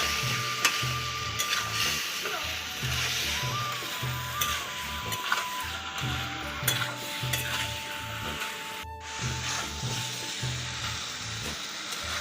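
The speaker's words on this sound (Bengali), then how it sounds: "মাংসটাকে আমি অল্প করে নেড়ে নেব।" Chicken pieces frying in thick masala gravy for a rustic potato-and-chicken curry, stirred with steady rhythmic scrapes over a continuous low sizzle, close and fairly loud, with no talking.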